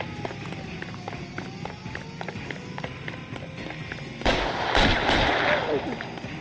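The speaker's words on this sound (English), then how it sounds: "he needs to stop shooting" Gunfire in the GTA video game: a rapid series of sharp shots, then a louder burst of heavy, dense firing near the end, with footsteps and crowd noise underneath.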